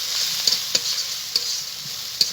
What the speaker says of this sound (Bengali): শুকনো লঙ্কা বাটা দিয়ে দেবো, দিয়ে দেবো অল্প লবণ, আর দিয়ে দেবো একটু হলুদ গুঁড়ো। মশলাটাকে আমি একটু কষিয়ে নেব।